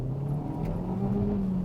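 A Hyundai i30 N Line accelerates downhill, its engine giving a steady low drone and rising hum from inside the cabin, with road noise underneath and no talking.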